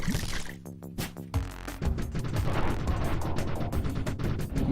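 Tommy gun firing in The Weaponographist, a top-down action game: rapid bursts of gunfire with booming impacts and clattering effects fill the clip, loud and dense with no pauses.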